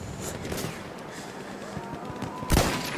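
A single sharp, loud gunshot from a rifle in the video game Battlefield 1 cracks out near the end, rising over a steady bed of distant battlefield noise.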